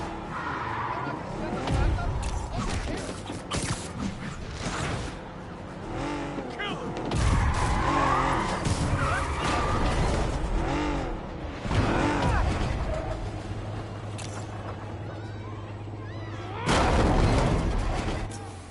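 Car chase in a Spider-Man video game: engines roar with screeching tire skids and heavy booms in repeated loud bursts, mixed with intermittent voices.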